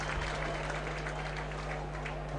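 Football crowd at a Burnley v Wolverhampton Wanderers league match applauding and murmuring, a steady broad wash of clapping and noise from the stands with no clear peaks.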